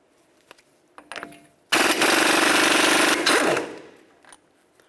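A pneumatic impact tool on a socket spins off the axle nut of a 2007-2011 Toyota Camry during a wheel bearing and hub job: one loud, continuous rattling burst of about two seconds that tapers off, with faint clicks before it and none after.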